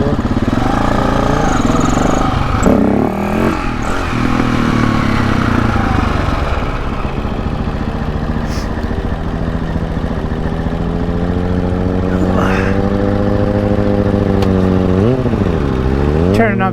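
A motorcycle engine idles close by with a steady, continuous rumble, and its pitch rises and dips slightly as the throttle and idle speed are adjusted.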